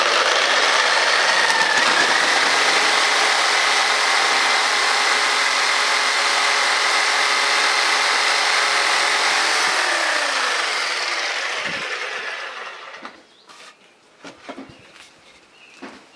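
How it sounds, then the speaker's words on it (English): A reciprocating saw cuts through a recycled wooden fence post. It gives a loud, steady buzzing rasp for about twelve seconds, then slows and dies away, followed by a few faint knocks and clatters. "we've got our reciprocating saw, so glasses on, and we're going to cut"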